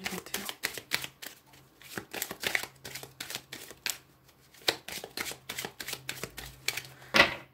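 Tarot cards being cut and shuffled by hand, a rapid series of crisp papery riffles and snaps close up, with short pauses between bursts and no talking.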